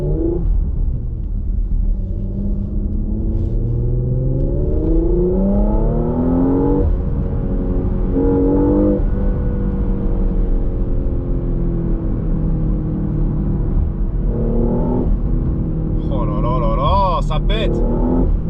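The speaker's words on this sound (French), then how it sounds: "on va faire des petites accélérations, profiter de la sonorité du véhicule" A car accelerates through streets in Estonia, its engine rumbling loudly and close with repeated rising revs that climb in pitch, ease off and build again, with a brief higher whine near the end.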